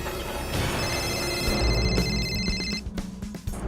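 A telephone rings in a tense office scene, a call from the chief minister arriving over a bed of dramatic background music, with steady repeated bell-like tones at moderate loudness.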